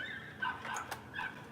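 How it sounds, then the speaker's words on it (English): Dog outside barking and whimpering faintly in the distance, a few short yips and whines over a steady background hum. "What's that dog? It sounds like he's having a heart attack."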